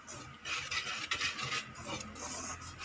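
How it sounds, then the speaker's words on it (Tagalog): Dry banana cake ingredients, including baking soda, are stirred together in a bowl, making a continuous soft scraping and rustling that stays steady and fairly quiet throughout, with no voices. "we have to mix the dry ingredients"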